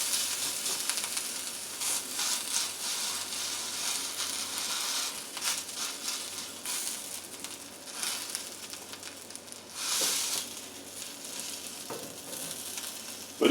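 Steady crackling sizzle of homemade chicken jalapeño sausages frying in a pan, with bursts of louder spitting and popping, close and continuous.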